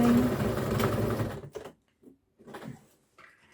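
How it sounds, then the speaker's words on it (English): A sewing machine stitches down the remaining lining seam of a Noodlehead Compass Bag, running steadily and loudly for about a second and a half before stopping, followed by a few faint handling sounds. "we're going to sew down that remaining seam on the lining"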